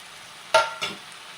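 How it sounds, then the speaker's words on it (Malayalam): 200 grams of paneer drop into a sizzling paneer, tomato and chilli mixture in a pan, a sudden hissing burst followed by a second softer sizzle over a quiet frying background. "ഇനി നമ്മൾ അതിലേക്ക് 200 ഗ്രാം പനീറാണ് ഇട്ട് കൊടുക്കുന്നത്."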